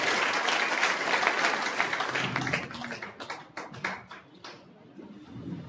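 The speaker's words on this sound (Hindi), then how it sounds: "ये बहुत प्यारे आदमी के लिए ताली बजाओ यार" Applause breaks out at a Hindi business seminar, starting as dense crowd clapping and then thinning into scattered, separate claps toward the end.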